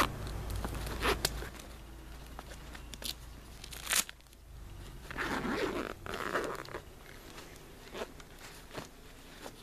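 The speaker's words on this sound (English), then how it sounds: "one zipper part that opens up the entire pouch" A clothing-style zipper opening a vehicle trauma kit pouch is pulled in several short, scratchy bursts, close up, with pauses and light handling rustle between pulls.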